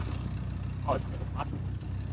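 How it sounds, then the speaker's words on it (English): A Renault 21 Turbo engine idles steadily close by, a low rumble with a mild exhaust blow puffing through. Voices briefly murmur over it. "A mild exhaust blow."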